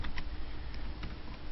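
Steady clatter of computer keyboard keys as code is typed, a continuous run of soft close clicks with no talking.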